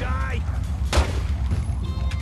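A single loud gunshot cracks out in The Godfather II video game, set against a low steady rumble of game ambience, with a voice talking over it.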